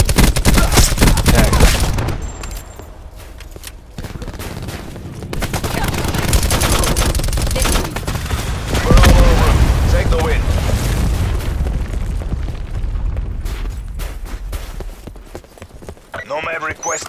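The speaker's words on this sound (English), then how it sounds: "Cluster grenade." Cluster grenade explosions ring out in Call of Duty: Black Ops 4 team deathmatch on the Payload map, a rapid run of loud blasts mixed with gunfire, with voices talking throughout.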